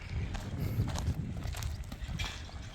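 A Don and Kyrgyz crossbreed horse walks at a steady pace, its hooves clip-clopping in a soft, irregular rhythm over a constant low rumble of outdoor noise. No one speaks.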